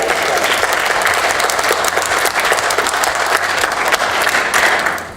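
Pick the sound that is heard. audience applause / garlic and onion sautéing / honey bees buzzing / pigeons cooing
audience applause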